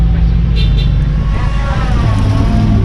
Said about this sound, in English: You see that man driving that truck just past us